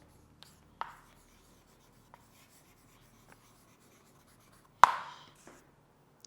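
Chalk or marker strokes on a classroom board during a physics lesson, a few short scraping bursts spread apart with one louder, longer stroke near the end, in a quiet room with no talking.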